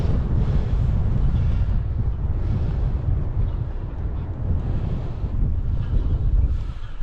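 Steady wind buffets the microphone in a constant low roar at Clickimin Broch, gusting slightly stronger at moments, with a faint wash of water beneath.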